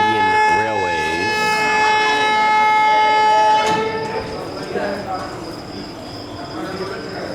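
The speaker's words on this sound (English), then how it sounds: "So this is one of the local trains from Indian Railways." An Indian Railways local train in Agra sounds a long, loud multi-tone horn up close, then the rumble of the passing train continues as voices chatter nearby.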